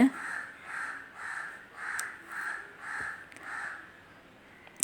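Crows caw outdoors in the morning, a slow regular series of seven or so harsh calls at moderate distance, evenly spaced over several seconds with a faint background between them.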